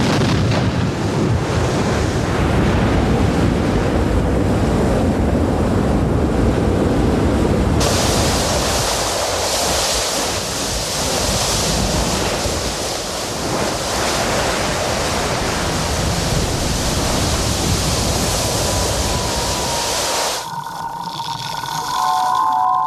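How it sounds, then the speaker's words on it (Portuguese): Lava pours into the ocean and seawater boils along a volcanic coast, giving a loud, unbroken roaring hiss that shifts in texture partway through and eases near the end, with no voices. "a costa se torna um caldeirão fervente quando o fogo e a água se encontram"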